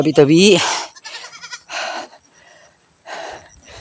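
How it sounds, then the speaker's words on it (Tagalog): Several goats bleat close by, one loud wavering cry followed by quieter overlapping bleats from the herd. "Daming kambing, ayan o."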